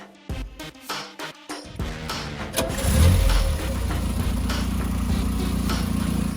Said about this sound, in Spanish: El coche finalmente arrancó después de casi un año parado.